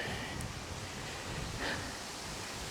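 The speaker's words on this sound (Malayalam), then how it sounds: "ആഹാ നല്ല കാറ്റ്" Steady, broad rushing air noise fills the whole stretch, a constant outdoor wind roar near residential areas in Sweden, with no voices, fairly faint.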